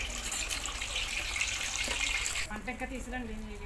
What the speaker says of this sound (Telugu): దీన్ని బాండీలో కాగుతున్న వేడి నీటిలో వేసుకోవాలి నూనెలో